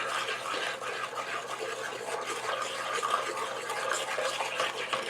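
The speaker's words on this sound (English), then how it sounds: "And now I am going to keep stirring" Hot adadiya paak mixture with gund being stirred in ghee, a continuous soft scraping and sloshing at moderate volume with irregular small strokes throughout.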